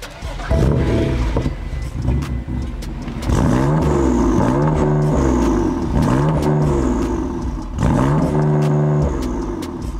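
BMW M2 Competition engine with a Milltek exhaust, loud close revving in repeated rising and falling bursts with a deep throaty burble between them, the pitch sweeping up sharply on each blip.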